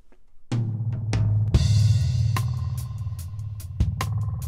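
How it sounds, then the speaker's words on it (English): Drums drenched in a boomy, metallic spring reverb, hits smearing into a continuous ringing wash that sustains between beats. "Convolvo with the drums in order to make this."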